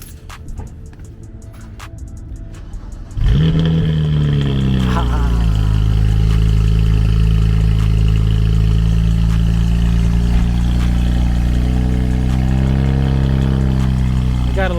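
A BMW 335i fitted with VRSF downpipes cranks and fires up after a few quiet seconds, then settles into a loud, deep idle with a brief rev blip near the start and another near the end.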